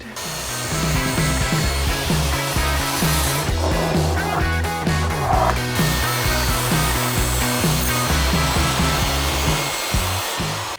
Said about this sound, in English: I am going to cut a strip of the plywood down at this exact width